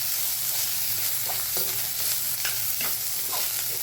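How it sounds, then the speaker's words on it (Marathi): Onion, garlic and peanuts frying in oil in a pan for a sprouted moth bean curry, with a steady sizzle and a spoon scraping and stirring at intervals. No voices. "हा असे छान फ्राय करून घ्यायचे ते तेलामध्ये आणि कांद्याबरोबर."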